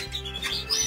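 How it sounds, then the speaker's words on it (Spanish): Small pet birds in a home aviary, a brief burst of high chirps and tweets over a low steady hum, close and fairly clear. "Y aquí están los pajaritos que están"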